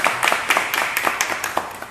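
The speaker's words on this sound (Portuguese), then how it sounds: "Então também um aplauso para eles." Applause for the BitNation ambassadors at a São Paulo barbecue meetup, a small group clapping with distinct sharp hand strikes in a quick, uneven patter, close by.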